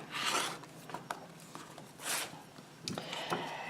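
Quilt block fabric is trimmed along a ruler with a rotary cutter, giving soft raspy rubbing strokes, a few short swipes close by and fairly quiet, with no talking.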